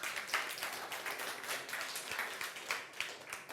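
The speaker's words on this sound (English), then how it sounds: "Can I ask for applause for SME Finance?" Scattered applause from a small live audience in an event hall during a startup pitch battle, soft uneven clapping that stays fairly quiet throughout.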